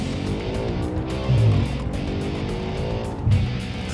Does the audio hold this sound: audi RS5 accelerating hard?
yes